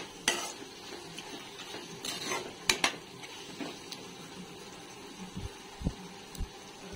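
Chili powder being fried and stirred in a pan for a brinjal and dried prawn curry, heard as a scattered series of soft scrapes and light clinks of a utensil against the pan, fairly faint, with no talking.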